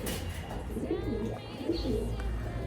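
Pigeons coo softly on the Rue du Chat, a narrow old street in Troyes, France, their low murmuring calls repeating over a steady outdoor background hum.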